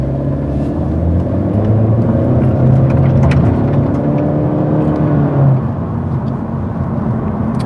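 A 2020 Honda Civic with a CVT pulls along the road, its engine droning in a smooth, rising whir over a loud, constant road rumble, with no voices.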